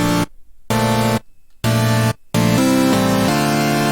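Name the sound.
supersaw layered with a signature sound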